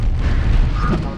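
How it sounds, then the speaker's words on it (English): Samus bombs exploding during a Super Smash Bros. Melee grand final match, muffled low booms and pops clustered close together, fairly loud under the game's background sound. "We're seeing all these bombs being dropped."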